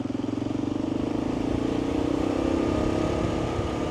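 A Kawasaki KLR dual-sport motorcycle ridden along the rough, uneven Fort Ross Road toward Cazadero, California, its engine droning steadily and loudly at a near-constant pace with a low rumbling throb and wind noise throughout.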